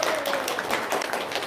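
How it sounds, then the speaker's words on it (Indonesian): Audience applause in an indoor gathering, a dense steady wash of clapping from many hands, fairly loud and continuous throughout. "kasih tepuk tangan dulu dong"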